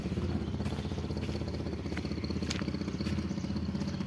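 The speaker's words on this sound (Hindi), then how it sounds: "ये एक्सीलेटर दबाना थे बैठ के, ए दबा।" A modified Maruti 800 car engine fitted with a turbo whistle runs close by with a loud, rhythmic, clattering throb that holds steady throughout.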